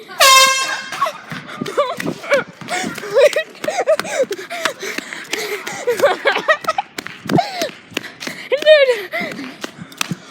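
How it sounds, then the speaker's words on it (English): An air horn blasts in a long piercing burst at the start, then a bright shorter honk near the end, with excited voices talking and laughing throughout between the blasts, set during a prank. "Yo, I might keep that air horn. It was a good air horn."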